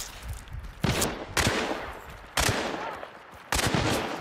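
Bursts of gunfire in a shooter video game: four loud broadband shots, spaced irregularly across the stretch, each trailing off into a noisy decay over a steady background hiss.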